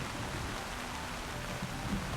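Light rain falls steadily on a misty mountain path in an audio drama, a soft continuous hiss with no voices.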